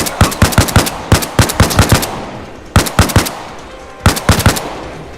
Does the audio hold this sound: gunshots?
yes